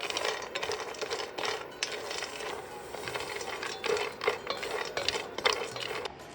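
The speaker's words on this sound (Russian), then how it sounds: "Поджарим все орехи на среднем огне" Almonds, hazelnuts, pistachios and peanuts for dukkah are stirred in a frying pan over medium heat, giving a steady, faint scraping and rattling with small clinks throughout.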